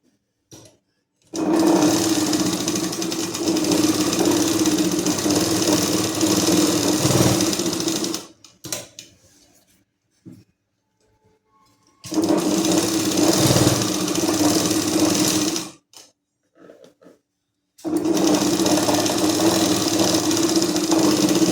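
A sewing machine stitches a salwar in three long bursts of steady whirring, separated by pauses with faint handling clicks, close and loud with no talk.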